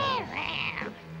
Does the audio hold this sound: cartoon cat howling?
yes